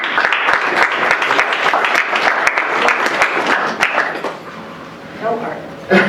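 Crowd applause at a Veterans Day 2021 ceremony, sustained clapping for about four seconds before thinning out into scattered claps and quiet room noise.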